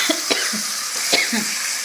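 A person coughs several times in short, sharp bursts while cooking pigeon meat curry, close and fairly loud over a faint background hiss.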